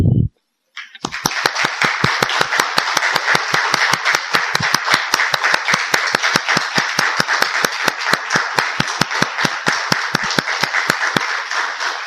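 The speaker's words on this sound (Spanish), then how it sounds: "Saludémosles inicialmente con un minuto de aplauso." Mourners at a commemorative anniversary ceremony at El Eden give a long, steady round of applause, the crowd clapping together in a regular rhythmic beat after a brief voice at the start.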